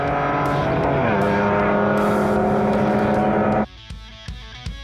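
A DKW race car in a Marque-car race roars loudly through the final bend, its engine note holding steady and close, then cutting off abruptly and leaving a few faint knocks.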